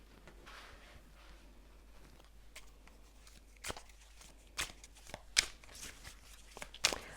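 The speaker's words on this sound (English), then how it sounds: "I'm actually going to shuffle some of these archetype cards" Quiet rustling and soft papery flicks of tarot archetype cards being shuffled up close, sparse at first and then a few sharper riffles toward the end, with no talk.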